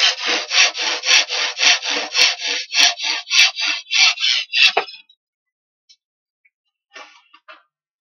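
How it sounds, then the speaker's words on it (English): A hand saw cuts through wood while building a camping chuckbox, about a dozen brisk rasping strokes in steady rhythm, close and loud, then the cut finishes and only a few light scrapes and taps follow in near silence. "At the end, be very careful when sawing."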